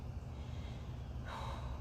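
Someone with a runny nose during a heavy upper-body lifting workout gives a close, breathy sniffle near the end, over a steady hiss of background noise.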